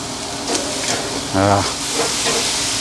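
Beef frying in oil in a pan for teriyaki, a steady close sizzle with a brief louder hiss and scraping midway.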